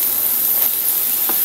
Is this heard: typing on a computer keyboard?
no